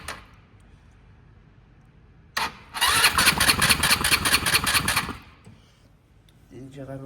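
A motorcycle engine is cranked with its electric starter for a little over two seconds during an oil change, a loud rapid whirring churn with quick regular pulses that does not start, preceded by a click and quiet background.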